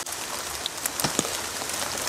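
Rain falling on a tent at a campsite during a thru-hike, a steady close hiss with a few sharper drop taps, no voices.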